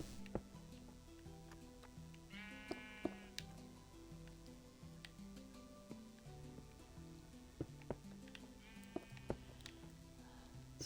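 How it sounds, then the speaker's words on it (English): Sheep in a video game bleating in two short wavering calls over steady game music with soft ticking clicks, fairly faint. "There's lots of sheep in the area at the moment."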